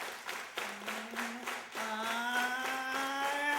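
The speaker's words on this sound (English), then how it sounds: "Let me hear you clap your hands." A concert audience claps in time, steady rhythmic hand claps at a folk music anniversary show, with a sung or sustained voice rising over the clapping partway through.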